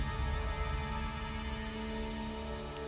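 Steady rain pours onto a surface, a dense, even patter that holds throughout at moderate loudness with no voices.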